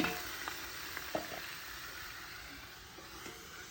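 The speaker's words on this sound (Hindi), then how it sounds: "यो लो चढ़ा तड़का।" Hot oil with whole chillies and garlic for a tadka sizzles and crackles steadily, with a few sharper pops near the start, close and fairly loud with no talking.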